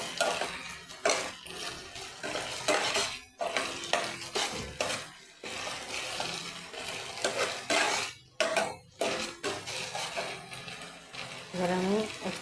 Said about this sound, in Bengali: আদা রসুনটা দিয়ে একটু ভেজে নেব ভালো করে।